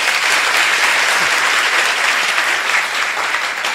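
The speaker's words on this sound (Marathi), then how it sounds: "एकदा टाळ्या तर वाजवा." A large audience at a Marathi devotional kirtan claps in a dense, sustained burst of applause, loud and even throughout, with no talk over it.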